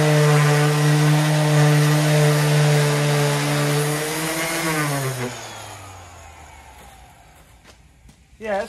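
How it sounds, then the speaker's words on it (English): An orbital sander fitted with a 120 grit pad runs on pallet wood, a loud steady whirring hum that winds down and fades to near silence before a brief knock at the end. "I'm using an orbital sander with a 120 grain pad on it."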